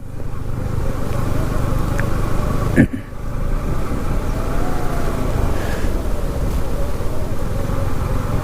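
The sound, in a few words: car driving over speed breaker, clutch and accelerator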